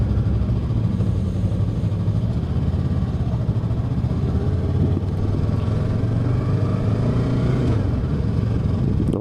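Yamaha R3 motorcycle on a road ride, its engine a loud, steady close-up drone with a slight change in pitch near the end as the rider shifts gears.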